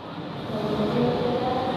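The Motis Nataru passenger train pulls into track 2 at the station, a low steady rumble of wheels and carriages rolling in, fairly loud and continuous without voices.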